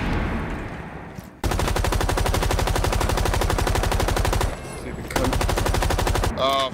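Video game gunfire: long sustained bursts of rapid automatic shots play close and loud, with a brief pause between two volleys, and a voice cuts in near the end.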